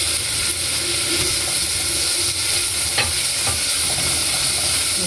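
Garlic and coriander stir-fried in a pan, a steady sizzle and hiss with scraping stirs running throughout, close and fairly loud, no talking.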